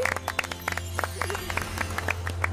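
Quick, bright claps patter through a children's cartoon, a run of light, irregular handclaps over a low steady hum and music.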